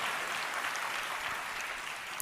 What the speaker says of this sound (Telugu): నమ్మిన వారు గట్టిగా చప్పట్లు కొట్టి దేవుని అనుమయంపరచండి